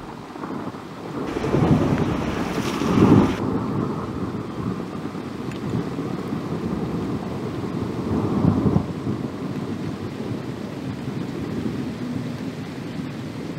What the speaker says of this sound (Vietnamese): ở ngoài mưa rồi